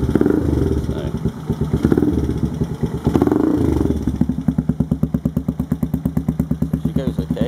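A Demak D7 motorcycle engine with a loud aftermarket exhaust, talk over it at first, then a steady, throbbing idle with rapid regular pulses close by.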